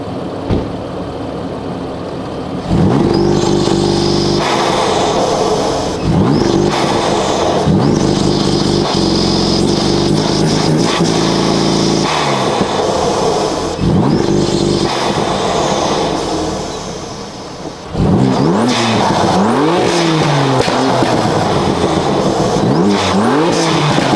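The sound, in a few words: BMW M4 engine revving in launch control with front mount intakes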